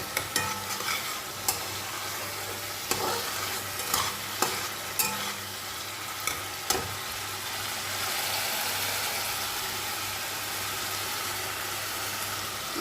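Sesame and melon seed paste stir-fried in oil, a close steady sizzle with repeated sharp spatula scrapes and knocks early on, settling into continuous frying.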